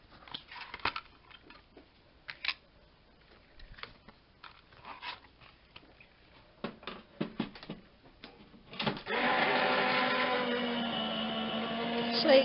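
A die cutting machine running paper through, starting with scattered taps and clicks of handling, then a loud steady motorised whir with a rising whine that lasts to the end.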